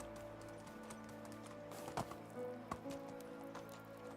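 Horse hooves clip-clopping across the ground in the medieval village-building game Medieval Dynasty, a steady trotting patter over a busy ambient bed with a couple of sharper knocks.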